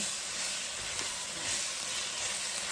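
Vegetables sauté in a hot pan for a copycat beef stew, giving a loud, dense, continuous sizzle with faint stirring underneath and no talking.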